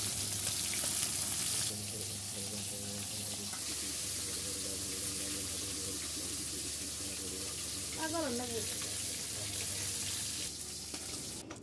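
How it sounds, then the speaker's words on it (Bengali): Fish marinated with salt sizzles steadily in a frying pan, a broad continuous hiss throughout with faint background hum and brief clinks, close and moderately loud with no speech over it. "আর এখন দেখতে পাচ্ছেন আপনারা মাছ ভাজা হচ্ছে।"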